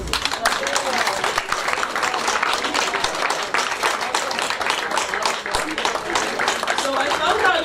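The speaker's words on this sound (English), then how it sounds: "Second, you're going to clap for yourself." At a wellness and self-care summit, an audience claps for themselves in a loud, dense burst of handclaps, with voices mixed in underneath.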